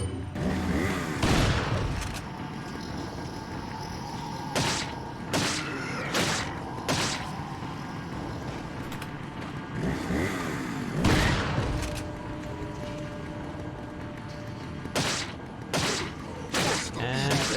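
Gameplay combat from Resident Evil 4, with a thrown grenade blasting among villagers alongside repeated sharp bursts of impacts and gunfire-like hits spread across the stretch, loud and close over a steady game background.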